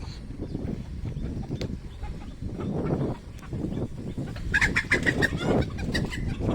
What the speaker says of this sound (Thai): เลี้ยงไก่แจ้มากเลย